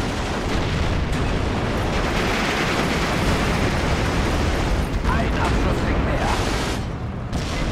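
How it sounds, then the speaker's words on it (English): An MG-42 machine gun fires in a WWII real-time strategy game battle alongside a PaK-40 gun and Panzer IVs, a dense, sustained roar of bursts and blasts under continuous battle din. "Just hear that MG-42 going off here"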